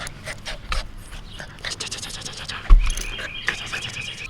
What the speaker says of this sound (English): they have some wonderful puppies